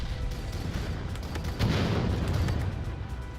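Artillery fire in the VR strategy game Final Assault produces muffled, distant booms, with a heavier rumbling burst midway through the short stretch.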